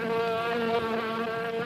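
A fly buzzes in a film trailer for The Fly (1986), a loud, steady, close drone that holds without a break, with no voices over it.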